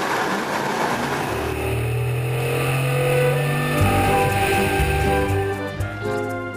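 A car accelerates hard nearby, its engine note loud and rising with a gear change partway through, then climbing again before easing at the end.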